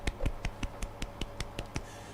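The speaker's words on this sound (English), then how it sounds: "Golf clap." Slow, sparse hand clapping, about ten soft claps at a steady moderate rhythm, close by and fairly quiet, with no voices.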